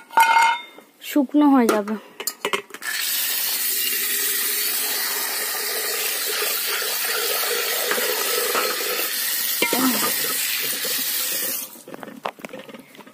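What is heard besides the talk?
washing dishes and pots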